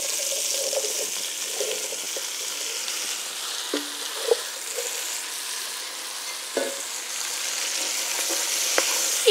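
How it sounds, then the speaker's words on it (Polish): Diced potatoes, garlic and vegetables fry in rendered bacon fat, a steady broadband sizzle running throughout with a few soft clinks and stirring knocks from the pan. "I warzywa przesmażę na tłuszczu, jaki został wytopiony z boczku."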